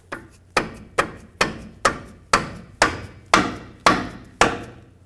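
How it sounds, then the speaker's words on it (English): A rubber mallet tapping a Ford F-150 differential tube to break it free: ten evenly spaced, close, dull knocks about half a second apart, each fading quickly, with no talking. "with a rubber mallet, gently tap this so you can break it free"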